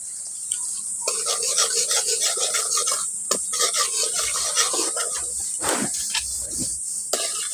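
Red chili powder and turmeric powder hitting hot oil in a pan for egg biryani, a continuous loud close-up sizzling hiss with rasping, crackling texture that runs throughout without talking.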